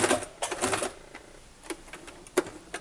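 A sewing machine stitches a small fabric bag for an Easter egg hunt, short rattling bursts of needle chatter, busiest at the start, then a few isolated taps, close and moderately loud.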